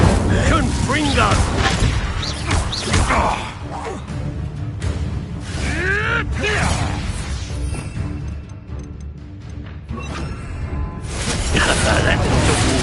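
Loud, repeated booming blasts and crackling bursts from Confringo and Incendio fire spells in a wizard video game, packed densely with sweeping whooshes while a voice speaks over the din.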